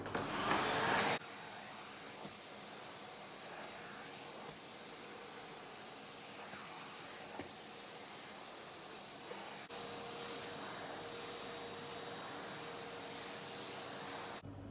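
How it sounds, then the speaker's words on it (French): A steady, droning vacuum cleaner hums on continuously at moderate volume, with a brief louder burst at the start. "Donc un petit coup d'aspi et on sera plus ou moins bon."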